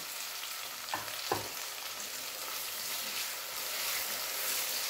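Tomatoes fry in masala for an aloo baingan curry while being mixed, producing a continuous close sizzle with two brief utensil knocks early on and no talking.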